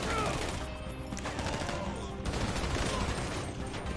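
Rapid video-game gunfire from GTA 5 fills the moment, dense overlapping bursts and shots crackling continuously at high level with no pauses.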